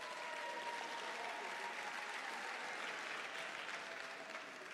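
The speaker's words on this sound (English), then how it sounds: "Clap for yourselves." Graduates at a graduation and book launch ceremony clap for themselves in dense, sustained applause from a crowd that fills the room evenly, with no speech over it.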